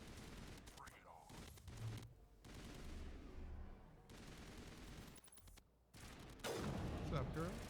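Sustained gunfire crossfire from a Mass Effect battle, with Geth forces and long-range turrets, rattling in bursts beneath game voices talking, broken by brief pauses before a louder final volley.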